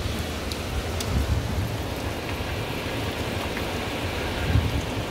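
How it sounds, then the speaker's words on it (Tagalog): Heavy rain pours down in Sharjah, UAE, on the last day of 2021, heard from a window as a constant close hiss with a deep rumble underneath and no voices. "Grabe ulan."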